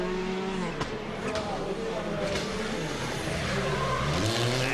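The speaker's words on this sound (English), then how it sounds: "plenty of sliding on those snow tyres around these sweeping hairpins at either end of the circuit" Rally cars on snow tyres at the Monte-Carlo Rally slide through sweeping hairpins, engines revving and droning continuously and loudly, with shifting pitch and occasional tyre noise, mixed with crowd or commentary voices.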